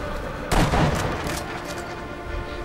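A single sharp sniper rifle shot rings out in Sniper Elite V2, loud and close, with a decaying rumbling tail over a quiet background.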